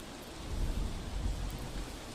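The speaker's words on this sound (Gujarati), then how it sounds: "સાંજ પડતા જ ધોધમાર વરસાદ છે" Heavy downpour in Vapi, Valsad during an evening storm, with a dense, continuous wash of rain and a deep low rumble underneath, close and steady throughout.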